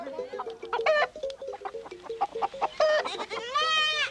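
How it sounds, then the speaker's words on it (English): Goats bleat with wavering, nasal cries amid clucking chickens in a Baoulé village. The bleats are close and repeated, and a long quavering call rises near the end over a busy farmyard background. "Everywhere there are goats, sheep, and chickens."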